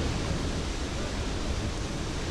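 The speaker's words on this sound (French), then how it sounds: "Les Islandais appellent ces chutes d'eau Gullfoss, les chutes d'or." Gullfoss waterfall in Iceland, a steady roaring rush of falling water forming a broad, even wash of noise with no pauses, heard close and fairly faint.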